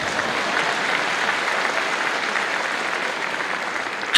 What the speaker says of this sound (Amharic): አረ በደንብ አጨብጭቡ።